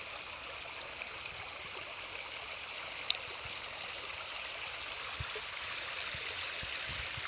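A stream flows steadily at a quiet, uninhabited village picnic spot, its water making an even, continuous rush with no voices and only a faint click or two.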